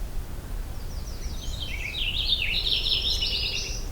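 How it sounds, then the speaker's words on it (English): A purple finch sings a rapid, warbling series of chirps on an overcast morning, moderately distant over a steady low background rumble, with no talk. "Purple finch."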